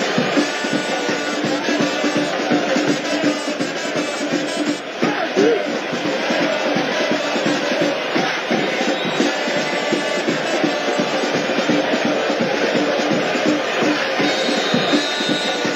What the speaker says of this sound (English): No shortage of passion from the crowd